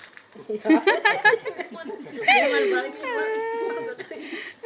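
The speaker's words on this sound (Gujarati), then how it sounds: "મીંદડી" A cat meows with drawn-out, rising and falling cries, close and clear, mixed with brief speech-like sounds.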